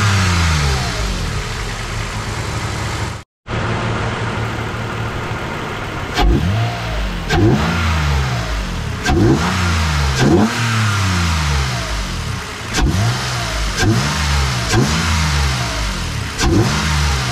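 A Toyota Sienna engine with a K&N filter in the stock air box revs up and drops back in a string of loud, close bursts, with one brief cut of sound near the start and no talking.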